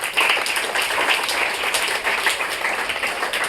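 Students and guests at a school results ceremony give loud applause for two second-rank students, steady, dense clapping sustained for several seconds in a room.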